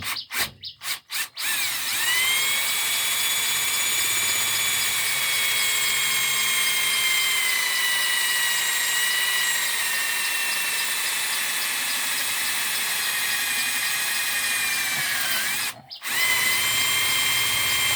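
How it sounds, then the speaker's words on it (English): A power drill whines at a steady high pitch for a long stretch after a few short start-up bursts, briefly stopping near the end before resuming. "I'm pretty certain I won't be able to drill right through there"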